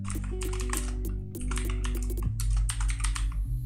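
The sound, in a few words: typing code on a computer keyboard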